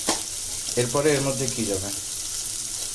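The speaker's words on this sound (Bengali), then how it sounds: "আচ্ছা, এটা একটু ভাজা হোক এখন" Whole spices, cardamom and cinnamon, sizzle in hot oil in a pot for a light chicken curry with papaya, a steady close frying hiss under a woman's speech.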